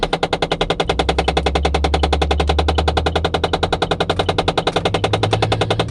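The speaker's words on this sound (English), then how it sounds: "That clicking noise is like a tint shield in my window, in my back window is broken." A broken tint shield in a car's back window clicks in a rapid, steady, machine-gun-like rattle that continues throughout, loud and close, over a low engine hum that shifts partway through.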